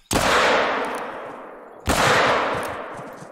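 Two loud, booming hunting rifle shots in the video game theHunter: Call of the Wild, about two seconds apart, each with a long echoing decay.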